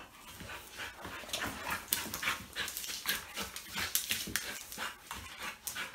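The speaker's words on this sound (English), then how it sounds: "And the dogs play with their teeth," A Pit bull and a female Dogo Argentino playing together, with close, irregular bursts of panting, snuffling and scuffling, plus faint clinks, moderately quiet and without talk.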